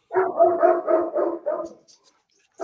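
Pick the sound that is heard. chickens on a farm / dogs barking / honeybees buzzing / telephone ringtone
dogs barking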